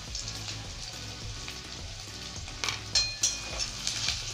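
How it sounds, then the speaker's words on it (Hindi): Ginger garlic paste frying in a pan with browned onions, a steady crackling sizzle with stirring scrapes and a few sharper spatters and knocks toward the end. "अदरक लहसुन को भी हम थोड़ा भून लेंगे"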